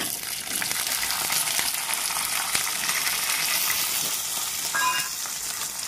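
Urad dal and chana dal fry in hot oil while a pickle is being made, a steady bright sizzle with a few soft stirring clicks, close and alone.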